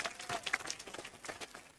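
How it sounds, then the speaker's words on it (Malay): Audience at a political rally in Wangsa Maju, Malaysia, clapping steadily as a crowd, a dense patter of many hands that holds fairly even in volume throughout. "Saya minta saudara-saudari tepuk tangan kuat-kuat kepada Datin Paduka Tan Yew Kiew sebagai penghormatan"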